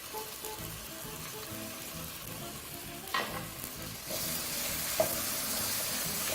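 Cauliflower and chopped cooked ham cooking in a big pot, a steady close sizzle and bubbling with a couple of sharp utensil knocks, growing brighter partway through.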